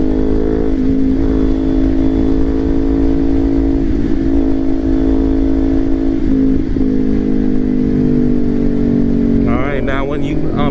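A motorcycle engine hums steadily at speed on a highway, holding a sustained tonal drone with slight pitch shifts as it gains speed, with wind noise and a brief higher-pitched burst near the end.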